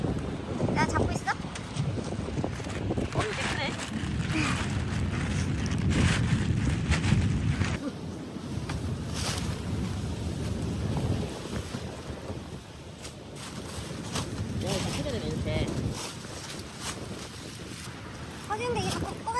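Strong winter wind at the seaside in Sokcho during a heavy snow warning, roaring and buffeting the microphone in loud continuous gusts while a couple tries to pitch a tent, with voices talking over it.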